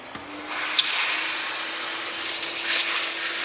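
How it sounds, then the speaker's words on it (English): A vacuum cleaner working over a car seat during interior detailing, a steady loud rushing hiss with a faint constant tone and small shifts as the nozzle moves, heard alone without speech. "I'm also going to vacuum the seat while I got the vacuum on"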